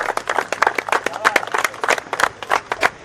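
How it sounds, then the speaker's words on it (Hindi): Crowd clapping to welcome two teams onto the ground at a grand final in an outdoor stadium, a steady run of sharp, fairly close hand claps with voices and crowd noise mixed in. "तो तालियों के साथ दोनों टीमों को स्वागत करें।"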